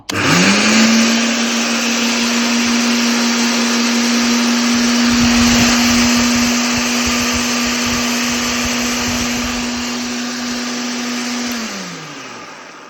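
Electric motor of an AL-KO Combi-Care 38 E aerator-scarifier, after repair, switched on and run on its own: a loud whining hum that spins up quickly, holds steady with some rattling, then winds down at the end.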